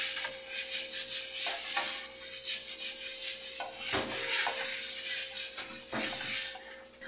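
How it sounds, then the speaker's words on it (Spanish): A paper napkin rubbing a drop of vegetable oil across a comal griddle, giving close, steady dry rubbing and swishing strokes with a few louder sweeps, heard alone without talking. "esta gotita de aceite vegetal la vamos a extender con ayuda de una servilleta por todo nuestro"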